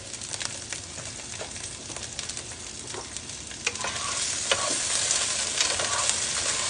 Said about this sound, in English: I'm going to get my sausage cooking here on the back